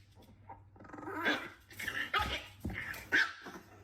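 A dog growls and grumbles in close, uneven bursts, with whimpering yips mixed in, loud and near with little else around.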